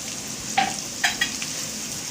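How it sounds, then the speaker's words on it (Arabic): Fried green beans tossed in a pan with garlic, sesame seeds, chilli and salt give a steady soft sizzle broken by three brief scraping clinks of stirring. "نقلبها كده مع الثوم والسمسم والشطه والملح بالشكل ده كده"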